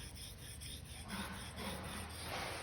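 Straight razor honed on a Saito SK1 stone with nagura slurry: a steady, close wet rasping and rubbing of steel on stone, continuous strokes with no talk.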